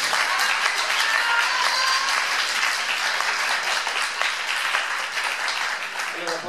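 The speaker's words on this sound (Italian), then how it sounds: "E quindi merita un ulteriore applauso." An audience at a December art vernissage applauds after a song, a dense sustained wave of many hands clapping close and loud, thinning slightly toward the end.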